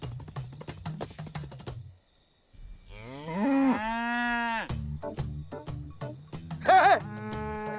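Buffaloes moo in a rural village, giving one long, drawn-out low call and then a shorter, higher one. Loud rhythmic clattering percussion plays before and between the calls.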